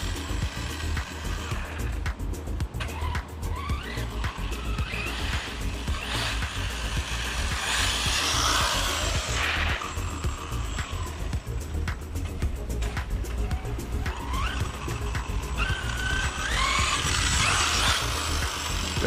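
A 1/5-scale Kraken Vekta.5 brushless RC buggy running on 12S, its motor whining and rising in high-pitched surges over a steady rumble of tires and outdoor noise, fairly loud and continuous.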